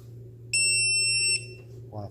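A $10 quadcopter lost-model buzzer gives one loud, sustained high-pitched beep of just under a second, standing alone over a low steady hum, with a brief voice sound at the very end.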